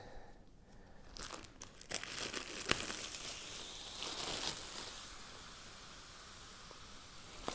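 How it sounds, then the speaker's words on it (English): Crinkling plastic wrap on a bed-in-a-box latex mattress with a few sharp scissor snips and tearing sounds, close and fairly quiet, followed by a softer rustling hiss. "Grab a pair of scissors and cut the remaining plastic open."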